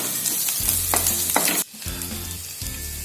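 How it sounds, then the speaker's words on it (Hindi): Garlic, ginger and coconut frying with onion in a pan for a matar paneer, giving a bright close sizzle broken by several short bursts of stirring, with a brief dip halfway through. "ये मैंने लहसुन और अदरक और ये नारियल को भी 2 मिनट तक ऐसे फ्राई कर लिया है।"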